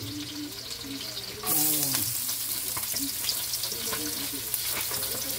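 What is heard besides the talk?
food frying in a pan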